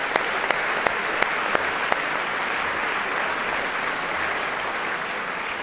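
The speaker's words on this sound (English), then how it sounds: "He'll get a proper applause in a second," An audience at the BAFTA Children's Awards claps steadily in a continuous wash of applause, with a few sharp individual claps standing out near the start and no voices on top.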